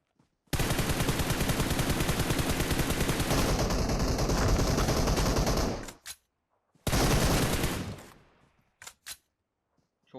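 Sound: gunfire in a video game

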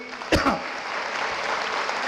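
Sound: audience applause for Bhaskar Jadhav

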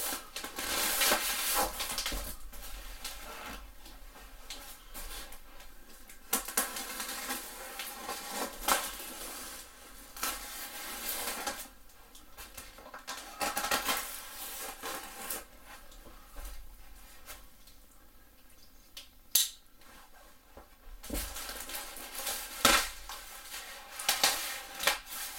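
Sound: cutting open kettlebell box and styrofoam packaging

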